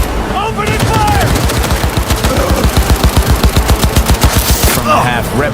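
Rapid machine gun fire in the video game Cyberpunk 2077, loud sustained bursts with a fast regular rhythm, mixed with game sound effects and brief voices.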